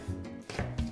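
A knife roughly chops leeks on a board for soup, three or four quick, uneven thuds close by with no talk over them.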